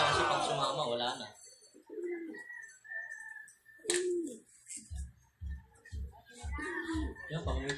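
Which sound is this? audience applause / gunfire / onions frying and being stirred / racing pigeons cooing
racing pigeons cooing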